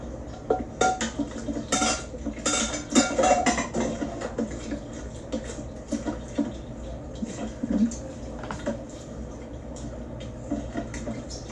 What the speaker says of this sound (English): Go ahead and add your beef along with all the broth that you saved